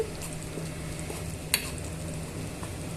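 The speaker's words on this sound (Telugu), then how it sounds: "అల్లం వెల్లుల్లి పేస్ట్ ఆనియన్ టొమాటో పేస్ట్ బాగా వేగిపోయిందండి" Onion-tomato paste with ginger-garlic paste frying in a pan for chicken curry, a steady soft sizzle running throughout with a brief clink or stir sound midway, no voices.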